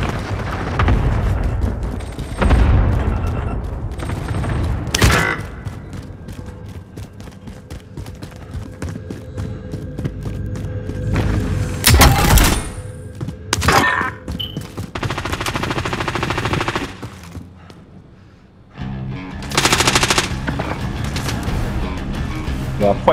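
Loud battle audio from Call of Duty: Modern Warfare, with rattling machine-gun fire and heavy airstrike explosions booming in repeated bursts. Radio-style voices talk over the din.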